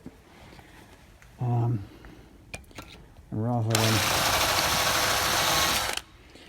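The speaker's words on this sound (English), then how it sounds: "if I clear the hole now with the drill" A power drill whirs in two short bursts, then runs steadily for a couple of seconds with a harsh high hiss while clearing a bolt hole, before stopping abruptly.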